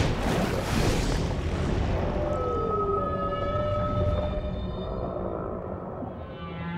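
Long, eerie whale calls beneath the sea, a drawn-out tonal cry sliding and holding over a dense underwater rumble, fading toward the end.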